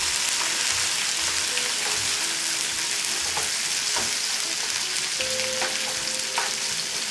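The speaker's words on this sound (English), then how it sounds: "Let's give these onions a stir now and get this basil mixed in." Onions and basil frying in a hot soup pot are stirred, giving a steady close sizzle with scraping stir strokes throughout and no talk.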